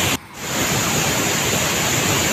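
A waterfall in Dayeuh, Jonggol, a small cascade likened to Niagara Falls, roars as a steady, dense rush of falling water close by, continuous and broadband with no voices.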